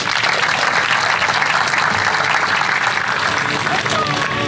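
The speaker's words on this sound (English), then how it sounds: "Please give her a round of applause." A crowd at a State of the City event applauds in a sustained, loud roar of clapping that fills the space evenly, with a faint voice briefly audible near the end.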